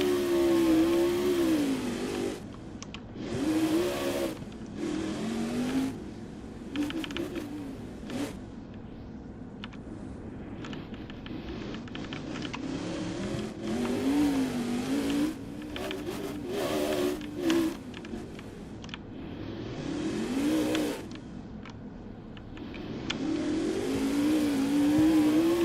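Monster truck engines in the Roblox Monster Jam video game rev and roar continuously, rising and falling in pitch through repeated throttle surges during a freestyle run, loud and close with no talk.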